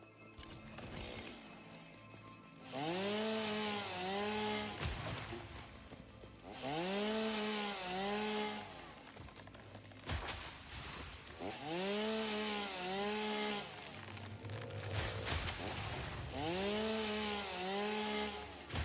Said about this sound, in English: I needed to go chainsaw some trees